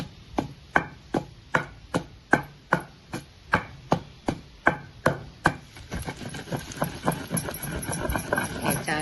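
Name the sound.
garlic being crushed coarsely for banana yogurt chutney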